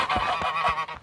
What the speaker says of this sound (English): That second honk wasn't me.